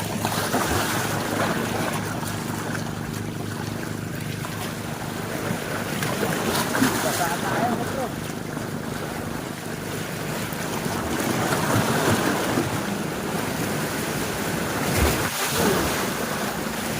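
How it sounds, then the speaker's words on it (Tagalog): Strong waves on Laguna Lake slapping around a small fishing boat, a constant rushing wash with gusty wind buffeting the microphone and occasional thumps, loud and close throughout. "Grabe, lakas ng alon."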